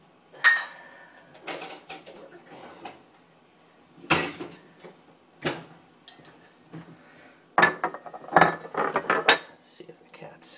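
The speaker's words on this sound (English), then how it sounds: "Let's get you some dishes." Dishes and cutlery clattering in a home kitchen, a series of sharp clinks and scrapes in irregular bursts, close and fairly loud, with pauses between handling sounds.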